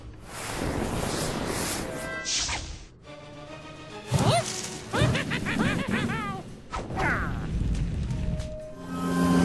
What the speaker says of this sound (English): I should be able to throw a fire elf or something along those lines and finish him off